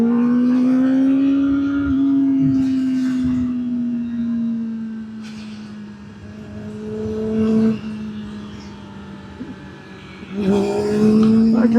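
Motorcycle leaning through a big right-hand corner on a state highway in second gear, its engine drone holding a steady pitch with slight rises and dips, close and loud, with wind rush and no talking.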